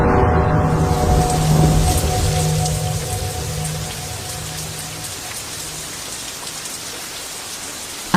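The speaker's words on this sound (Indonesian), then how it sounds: "Dan hujan pun turun." Steady rain pours down in a dense, even hiss that holds throughout, loud at first and easing slightly, with a faint low rumble early on and no voices.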